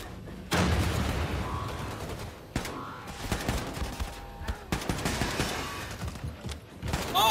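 Gunfire in the Wolfenstein 2 video game: a chaotic sequence of shots and impacts over several seconds, with sharp bursts separated by brief lulls and heavy layered action noise throughout.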